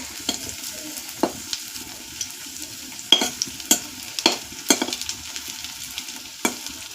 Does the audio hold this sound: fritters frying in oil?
yes